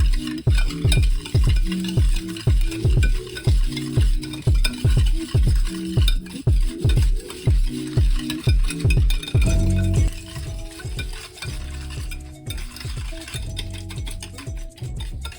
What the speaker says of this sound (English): And then squeeze in a little bit of lemon juice. And then you're just going to whisk that around.